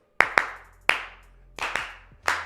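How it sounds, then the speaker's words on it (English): Hands clapping at close range: six sharp, loud claps in an irregular pattern, two quick ones, then a single clap, then a pair and a final clap, with no talking. "So yeah, that's clapping."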